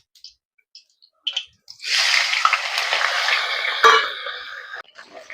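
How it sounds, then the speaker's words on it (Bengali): A salted, turmeric-rubbed fish head drops into hot oil after a few small clicks, bursting into a loud, steady crackling sizzle that holds for about three seconds before tapering off. "তেল গরম হয়ে গেছে, মাছের মাথাটা আগের থেকে নুন হলুদ মাখিয়ে রেখেছিলাম। এরপর কড়াই দিয়ে দেবো।"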